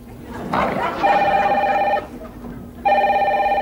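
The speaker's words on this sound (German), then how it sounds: "Telefon" A telephone bell rings indoors in two loud bursts with a short pause between them, set among a German television comedy scene.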